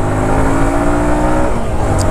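Runner Knight Rider V2 150cc semi-racing motorcycle engine running steadily and loud, a sustained drone with smooth pitch shifts as it pulls through the gears on a riding run.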